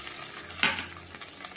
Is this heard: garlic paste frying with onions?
yes